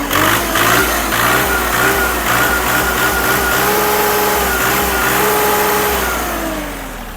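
An Iseki TU-217 Japanese mini tractor engine runs loud and close, revving up to a steady high pitch, then easing slightly toward the end.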